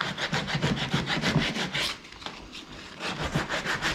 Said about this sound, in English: give him a light sand just to take the sharp edges off